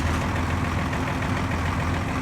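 An old Ford 8600 tractor engine idles steadily with a low, rough chugging rumble, close and continuous throughout.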